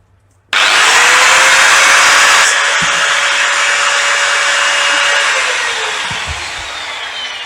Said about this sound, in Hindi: तो ये हमारा ग्राइंडर बिल्कुल परफेक्ट चल रहा है, नो प्रॉब्लम।